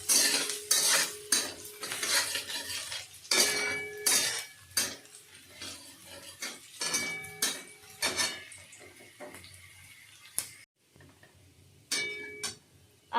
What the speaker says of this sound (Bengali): দিয়ে দিলাম, একটু রসুন কুচি, একটু আদা কুচি। এবারে এটাকে ভালো করে নেড়ে দেবেন